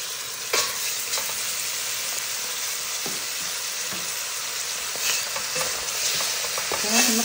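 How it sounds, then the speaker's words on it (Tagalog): Chicken frying with onion, spices and cardamom for kabsa, a constant bright sizzle overlaid with intermittent clacks and scrapes of a spatula turning the pieces in the pot. "تقلبون الدجاج لحد ما يتغير لونه مع البصل والبهارات والهيل."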